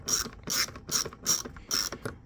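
Screwdriver driving handle screws into a Bissell PowerForce bagless vacuum, five evenly spaced bursts of ratcheting clicks, close and clear with brief pauses between turns.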